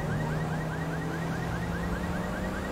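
A car alarm wails in GTA V, its rapid repeating chirps cycling steadily at a distance, partly buried under a constant low rumble of traffic and engine noise.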